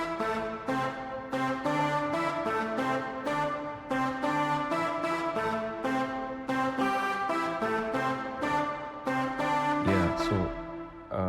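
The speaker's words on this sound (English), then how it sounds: "it's an Afro beat." Afrobeat instrumental groove built from layered synth chords and percussion, playing continuously at moderate volume with a steady syncopated rhythm and no talking.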